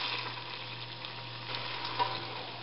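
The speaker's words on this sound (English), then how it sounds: "Okay, so the butter is all melted and it's sizzling." Chopped leeks sizzle in melted butter in a pan for a potato chowder, a steady, close frying hiss with a light stir around the middle, no talking.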